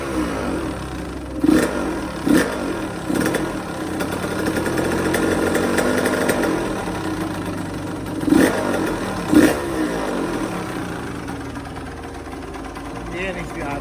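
A 2002 Suzuki RM85 two-stroke dirt bike engine idles steadily in a garage with its idle set too low, with a few louder blips of throttle and people talking over it.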